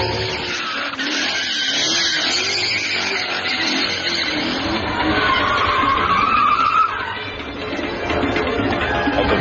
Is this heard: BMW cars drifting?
yes